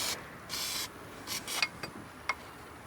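Short hissing bursts from a spray can, several quick sprays of varying length, close to the microphone, with faint clicks and rattles between them.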